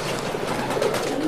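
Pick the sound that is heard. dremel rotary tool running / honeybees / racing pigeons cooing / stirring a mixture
racing pigeons cooing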